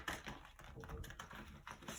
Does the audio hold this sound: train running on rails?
no